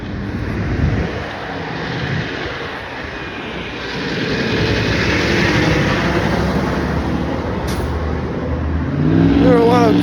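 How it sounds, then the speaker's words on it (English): Heavy vehicles rumble past on a street outside a school, engines swelling and fading as they pass close by, with a voice speaking briefly near the end. "There are a lot of school buses."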